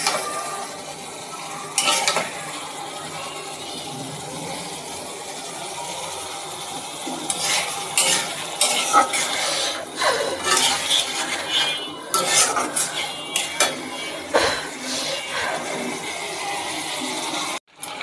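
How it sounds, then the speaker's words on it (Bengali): Spices being stir-fried in a pan for Malabar spinach with prawns make a soft sizzle, broken by repeated metal scraping and clinking of a spoon against the pan, with no talking. "পুঁই শাকটা বাগার দেওয়ার জন্য মশলাটা কষিয়ে নিচ্ছি।"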